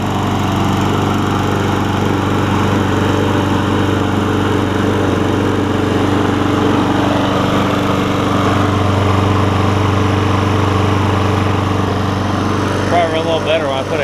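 A Troy Bilt push mower with a Briggs and Stratton 6.5 hp Quantum engine, freshly carb-cleaned and running without an air filter, drones steadily at a constant close, loud pitch throughout, with a brief rattle near the end.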